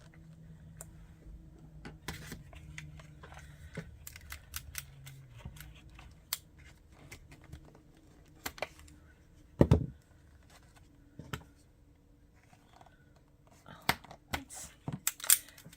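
A few sharp plastic snaps and clicks from scissors prying pieces loose, spread out over quiet handling noise, with one louder crack near the middle.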